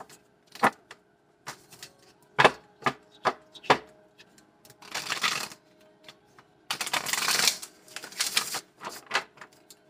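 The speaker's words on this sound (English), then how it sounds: "So I'm going to do three more shuffles" Playing cards being shuffled close by: a few crisp riffling bursts mixed with scattered sharp clicks and taps of the cards.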